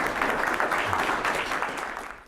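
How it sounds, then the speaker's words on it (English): An audience applauds a professor at a lecture on the Japanese-American experience in World War II, steady dense clapping at moderate level that fades slightly toward the end. "So give a warm round of applause to Professor Yanbai."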